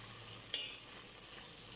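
Garlic sizzles quietly in a pan while being stirred, a soft steady fry hiss broken by a couple of sharp scraping clinks from the spoon.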